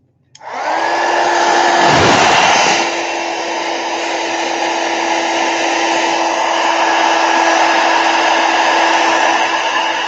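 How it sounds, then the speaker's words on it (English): A heat tool switches on and blows steadily for several seconds, a loud close whooshing drone while heat-setting watercolor on a Gelli plate. "I'm going to heat set it real quick"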